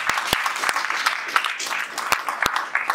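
A church congregation applauds steadily at a Christmas service, producing dense, continuous clapping with a few sharp louder claps standing out and voices faintly mixed in underneath.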